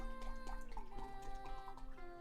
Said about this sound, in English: Just pour myself a drink.